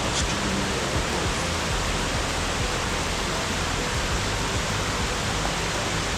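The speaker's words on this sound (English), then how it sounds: "There's basically 3 main waterfalls where the Sluntsica River runs into the Korana River" Waterfalls where the Slunjčica River flows into the Korana River at Rastoke, Croatia, pour as a steady, dense, loud rushing roar with no breaks and no voices.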